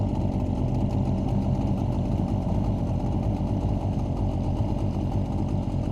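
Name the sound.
Suzuki 9.9A/DT15A outboard motor idling during break-in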